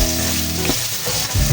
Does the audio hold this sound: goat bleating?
no